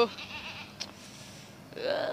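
Goats out grazing bleat a few times near a red stream, one clear bleat at the start and another rising one at the end, heard outdoors with faint background noise.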